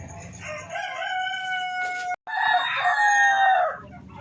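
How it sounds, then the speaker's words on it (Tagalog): A rooster crows loudly nearby in two long drawn-out calls, with chickens clucking and duck and fowl noises around it in a small backyard poultry pen. "ito na mga manok"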